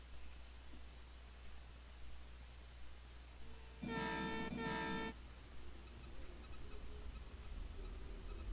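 On an HO scale model railroad club layout, a model train runs with a low steady rumble, and a bright horn sounds twice in quick succession partway through.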